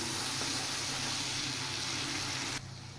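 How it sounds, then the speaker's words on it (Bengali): Cumin powder and dried chilli powder fry in hot oil with a steady, close sizzle that holds for about two and a half seconds, then drops to a softer hiss. "এবার এই জিরের গুঁড়োটা আর শুকনো লঙ্কার গুঁড়োটা একটু ভেজে নিই"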